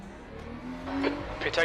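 Ferrari race car engine from the Le Mans Ultimate racing game hums and rises in pitch as it accelerates, heard under a voice talking.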